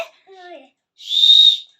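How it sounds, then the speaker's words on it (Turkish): A toy bird whistle from a surprise egg gives one clear, shrill, steady whistle lasting about half a second, close and loud, following a few brief faint warbling tones. "Hadi şimdilik sürpriz kuşumuzu öttürelim önce."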